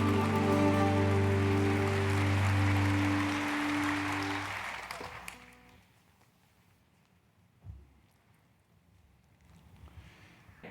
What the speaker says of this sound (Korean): 우리 주님께 영광의 박수 올려드립니다